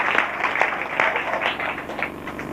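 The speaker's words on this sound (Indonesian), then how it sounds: "Oh berikan tepuk tangan yang meriah buat saya." A church congregation claps at a preacher's call for lively applause, a moderate crowd of hands patting steadily at mid distance with no voices over it.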